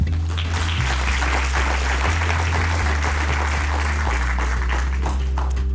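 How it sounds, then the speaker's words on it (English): An audience at a negotiation and drafting training session applauds steadily, a dense, even wash of many hands clapping throughout, with a low hum underneath. "Please give yourselves a clap."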